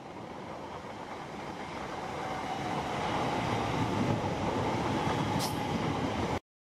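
A train runs through Taplow station at reduced speed, a steady rumbling roar of wheels and carriages that swells and holds close by, with a brief high squeal near the end and no talk.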